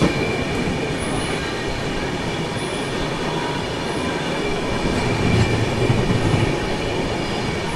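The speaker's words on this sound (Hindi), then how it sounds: "Jalandhar New Delhi intercity express" The Jalandhar–New Delhi Intercity Express rolls past close by with a loud, continuous roar of wagons and rattling wheels, faint high squeals and a rhythmic clatter running throughout.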